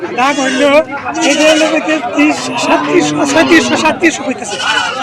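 Local goats bleat again and again at a busy border goat market in Munshirhat, Dhobaura, with close, overlapping cries under steady conversation and crowd chatter.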